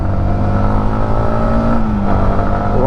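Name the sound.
Yamaha MT15 motorcycle accelerating through gears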